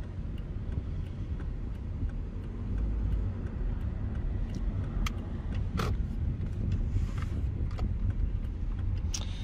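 A car coasting down after high revs and pulling over, its engine a low steady rumble with road noise and a few small clicks and ticks from the cabin, no speech.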